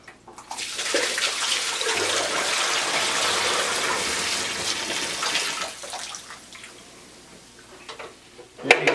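Water gushes steadily from the bucket of a Shinco 1500 sq ft dehumidifier as it is poured out, a close, continuous splash that tapers to drips at the end.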